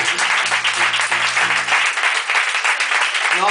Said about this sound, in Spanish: Tengo un aplauso, por favor, por el intento